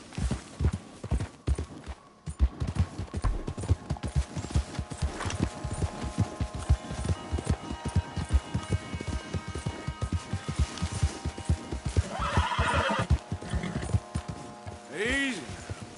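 A horse's hooves clip-clop in a steady walking rhythm close by, with a couple of whinnies toward the end, while a voice speaks over the hoofbeats.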